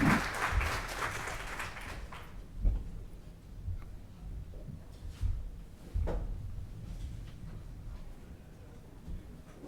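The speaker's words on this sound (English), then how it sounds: "let's really give a round of applause to these two pioneers in this field" Audience at an academic panel event on natural carbon capture claps, a burst of applause that is fairly faint and fades within a couple of seconds, followed by scattered knocks and shuffling.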